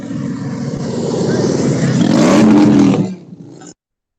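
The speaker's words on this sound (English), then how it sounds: "She went from watching TV in her car to riding a motorcycle." A loud motorcycle engine roars and revs with a rising pitch as a rider travels along, heard through a phone or livestream connection. The sound swells for about three seconds, then cuts off abruptly.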